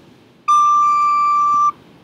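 A recorder plays a high D with only the middle finger down, in a 3rd grade recorder lesson. One clear, pure, steady tone is held for just over a second and then stops, played alone in a quiet room.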